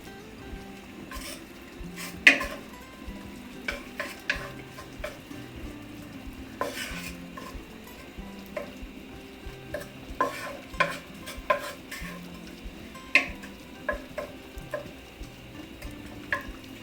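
Potato pieces frying in hot oil give a faint, steady sizzle, with scattered clinks and scrapes from stirring breaking through at irregular moments.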